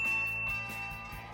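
A bright notification-style bell gives one ding on its own, and the clear tone rings on and slowly fades.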